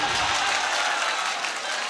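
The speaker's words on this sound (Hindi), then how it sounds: "एक बार जोरदार तालियां मेरे भाई के लिए" Audience at an All India Mushaira poetry gathering claps in a dense, sustained burst of applause that fills the hall for a couple of seconds.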